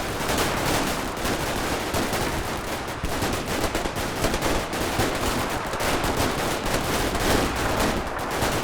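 Company-size infantry combat between U.S. and Italian troops in a 1943 video game battle, a dense, continuous roar of overlapping rifle and machine-gun fire with no breaks.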